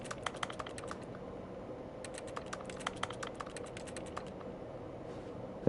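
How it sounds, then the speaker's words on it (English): Keyboard typing sound effect triggered by pressing X in a video game: rapid, close clicks come in quick bursts, with a short pause between runs of keystrokes. "When I press X, all you hear is buttons typing,"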